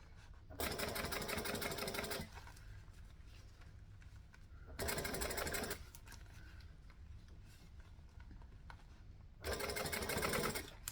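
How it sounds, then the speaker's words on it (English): A sewing machine top-stitches a bag in three separate bursts, each a steady, close, rapid whirring run separated by quiet pauses. "Go around this curve, and I like to do the top stitching slowly just so it stays nice."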